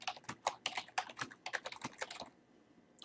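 Rapid typing on a computer keyboard while filling out an NHS application form, a steady run of close, crisp key clicks that stops near the end and leaves quiet room tone.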